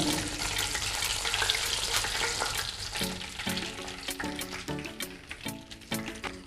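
Garam masala and bay leaves fry in hot oil for a beef kofta curry. A steady, close sizzle runs throughout, with stirring clinks and scrapes joining in the second half.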